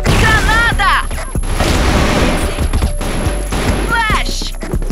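A grenade explosion in the online shooter game CrossFire, a loud booming blast amid constant gunfire and battle noise, with voices shouting over it.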